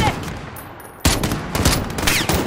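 Gunfire in Call of Duty Modern Warfare's campaign mode, repeated loud shots and bursts over steady battle noise, growing denser in the second half.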